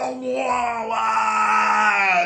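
A voice imitates an ogre's bellow during a Savage Worlds tabletop role-playing session, a loud, sustained, strained growling roar lasting about two seconds without break.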